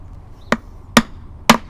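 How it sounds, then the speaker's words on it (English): Three sharp hammer blows crack open a dense hibiscus root mass, evenly spaced about half a second apart, close and punchy with a dull thud. "Got a hammer here."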